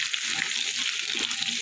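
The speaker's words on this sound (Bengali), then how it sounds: "কুমড়োটা আমি একটু লাল করে ভেজে নেব।" Pumpkin pieces sizzle and fry in a hot pan with oil, a continuous crackling hiss with soft bubbling throughout, close and fairly loud.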